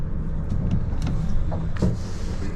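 Engine of a 2025 Stabicraft 2500 Ultracab XL boat being started with the key, a steady low rumble at idle with a few faint clicks on top, close and continuous.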